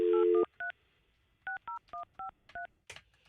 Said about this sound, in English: calling Julian's cell phone